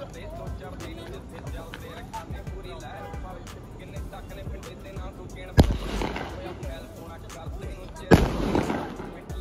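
Firework rockets launch among crackers being tested, two sharp whooshing bursts standing out over a background of scattered pops and crackles, with people talking throughout.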